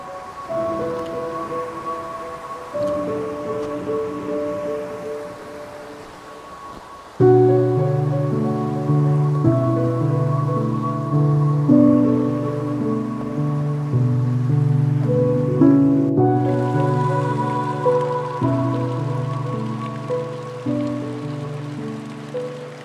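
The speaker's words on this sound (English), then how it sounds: "So it looks like Jay's found his own composition in these cascades and waterfalls" Steady rushing water pours down cascades and waterfalls near Wast Water, a continuous broadband roar that swells in loudness partway through, with no voices.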